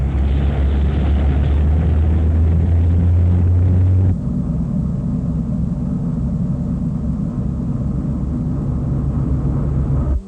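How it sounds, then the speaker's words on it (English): Two spaceships in flight, a film sound effect: a loud sustained engine roar with a deep low hum that drops away after about four seconds, leaving a steady rumbling whoosh that runs on alone. "Two spaceships in flight."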